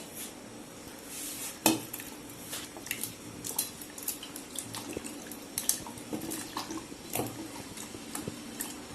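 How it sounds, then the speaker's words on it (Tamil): Tamarind about the size of a medium tomato being washed in water in a vessel for a village fish curry, soft splashing and sloshing with sharp metallic clinks of the vessel, close and fairly quiet, without talk. "ஒரு மீடியம் சைஸ் தக்காளி அளவு புளி கழுவிக்கலாம்"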